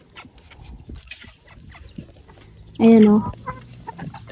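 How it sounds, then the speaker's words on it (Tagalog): A mated pair of caged bantam chickens cluck softly and intermittently, with one louder, sharper call rising briefly near the end while someone speaks nearby. "Kita ko naman sa inyo yung bonsai na manok."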